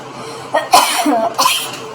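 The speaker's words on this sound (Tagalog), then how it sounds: "Hirit pa talaga yung ubo ko" A close, loud cough in two or three harsh bursts, followed by a quick throat-clearing sound.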